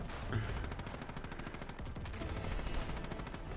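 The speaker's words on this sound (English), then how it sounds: "Are you shooting flares in happiness?" Rapid volleys of flares fired in Far Cry 5, a dense crackling burst of pops and booms in a chaotic game scene with no speech.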